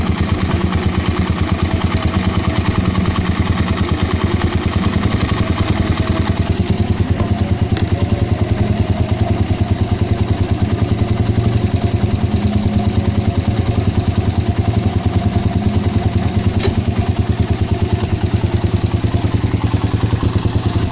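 A Raider 150 motorcycle engine with a 28mm carburetor idles cold while warming up, close and loud, with a fast even putter and mechanical clatter that holds the whole way through.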